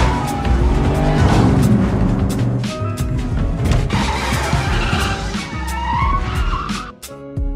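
Fast and Furious car chase fleeing police: loud, continuous engine roar with tire squeals and skids, plus scattered impacts. The din runs throughout and briefly cuts out near the end before resuming.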